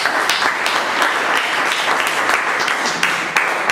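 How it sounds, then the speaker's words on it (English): Loud, sustained applause from an audience in a hall, a dense steady wash of clapping with a few sharper individual claps standing out near the end. "we give him another round of applause"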